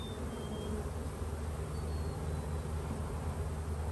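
Honeybees in a hive about to swarm make a dense, steady buzz close by, a continuous low hum with no talk over it.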